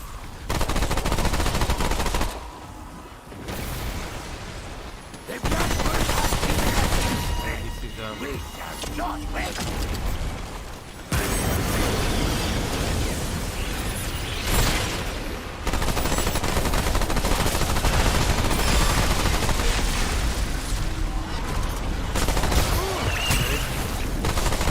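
Guns fire rapid, loud automatic bursts in long stretches broken by brief pauses, with a voice talking over the shooting.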